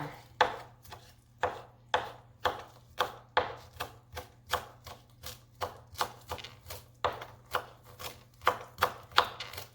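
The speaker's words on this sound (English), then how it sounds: "Let's just cut up a little bit of cilantro here." Knife chopping fresh cilantro on a cutting board, a steady rhythm of about twenty crisp close-up taps, with no talking.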